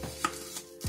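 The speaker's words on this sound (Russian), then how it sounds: "разрезаем его пополам и нарезаем вот так полукольцами" A knife chops an onion into half rings on a cutting board, a few quiet, distinct strikes spaced across under a second with no talking.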